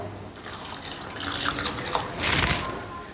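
Water pours steadily into a cooking pot for aloo matar pulao, a continuous splashing rush that swells and fades slightly, with no talking.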